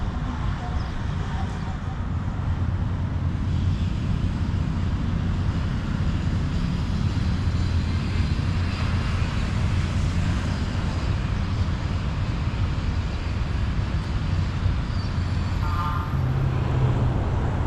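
Dense street traffic along Sihanouk Boulevard in Phnom Penh, a continuous close rumble of cars, trucks and motorbikes with passing engines swelling and fading, a voice briefly audible.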